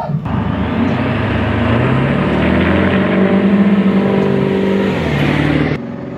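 Ford 7.3L Powerstroke diesel truck pulling away from a standstill, its engine droning loud and steady as it accelerates through several seconds before the throttle lifts and the sound drops off near the end.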